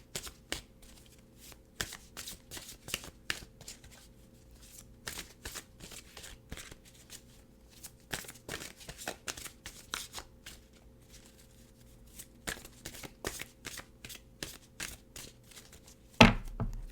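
Oversized tarot cards are shuffled by hand in quiet, close riffling bursts of crisp flicks and taps repeating irregularly, ending with a louder thump.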